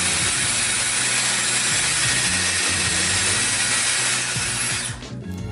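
A Dyson Airwrap Complete hair styler running on its high setting, a loud, steady whirring rush of air that cuts off sharply near the end.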